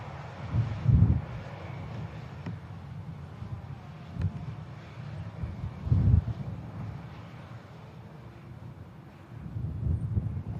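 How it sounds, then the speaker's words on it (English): A Pegasus Airbus A321neo at Manchester Airport, its engines a low steady rumble heard from a distance with occasional swells, mixed with wind buffeting the microphone. "The next aircraft out is going to be the Pegasus, I think 321 Neo."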